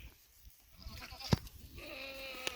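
Goats on a farm bleat close by, a short wavering cry near the middle and another brief call at the end, over quiet outdoor background with faint rustling.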